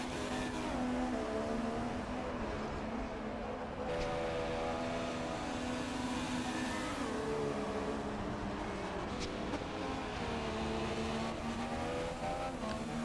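Formula 1 race car in the F1 2016 video game at the Russian circuit, its engine screaming at around 207 mph on the run into a braking zone, a loud, sustained high-revving howl with the pitch shifting slightly as it goes.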